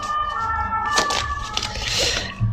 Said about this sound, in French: Et les pompiers qui passent au même moment.